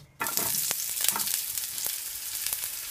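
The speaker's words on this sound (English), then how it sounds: "So now I'm gonna add my onions" Onions hit hot vegetable oil in a pot and sizzle loudly and steadily, with a burst of frying at the start and light crackles running through, close up with no talk.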